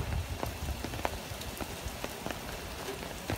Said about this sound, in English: the rain is actually being pushed by the wind,